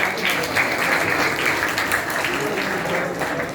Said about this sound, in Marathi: टाळ्यांचा आवाज कमी येतोय.